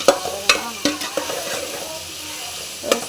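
Onion, tomato, dried red chilies and curry leaves frying in a pan for sambar, a loud close sizzle punctuated by irregular metal clinks of a stirring spoon, with no speech.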